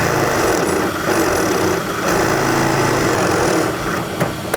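A Harbor Freight drill press spins a Forstner bit at high speed, a loud, steady motor whine with grinding cutting noise running throughout, close by and without speech.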